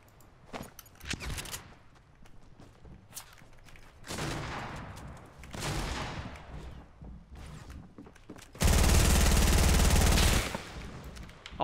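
Compact SMG fire during a Fortnite build fight, with rapid bursts and scattered shots, then a dense, loud sustained volley near the end, alongside building and impact sounds.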